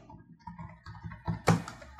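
Someone types on a computer keyboard while writing in Microsoft Word, a short run of soft irregular key clicks ending with a sharper, louder tap, close and quiet with no talking.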